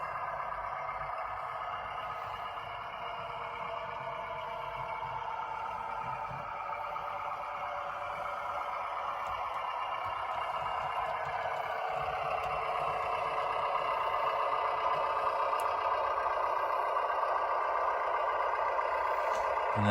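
The digital sound of a diesel railcar on a model GWR railway layout plays as it arrives off the branch line, giving a steady throbbing engine drone that holds and swells slightly, with faint clicks over it.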